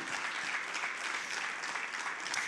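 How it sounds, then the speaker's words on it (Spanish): A church congregation applauds steadily and loudly, a dense wash of clapping hands filling the space for the whole stretch with no pause. "Dale fuerte ese aplauso porque no es para mí."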